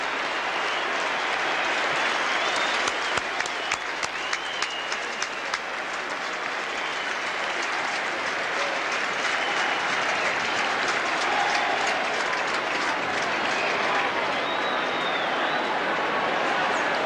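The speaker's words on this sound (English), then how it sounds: "Big cheer for Lee Matthews and Alan Jeans." A large stadium crowd at the MCG cheers and applauds steadily after the 1983 VFL Grand Final between Hawthorn and Essendon, a loud, continuous roar with scattered claps throughout.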